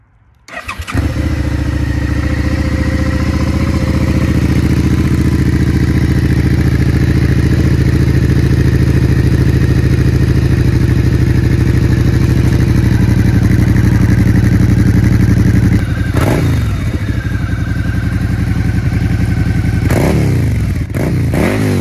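A 2016 Suzuki SV650 motorcycle engine cranks and catches within the first second, then runs loud and close at a steady idle before several sharp revs near the end. No one speaks.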